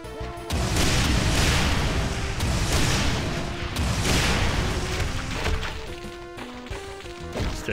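Explosions boom repeatedly in Final Doom: The Plutonia Experiment, heavy overlapping crashes that roll on for several seconds before fading into game music.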